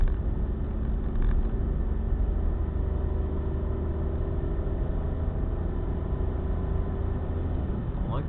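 Car engine running steadily while driving in fourth gear on roads around Eugene, Oregon, a continuous low rumble with road noise, unchanging and not aggressive throughout.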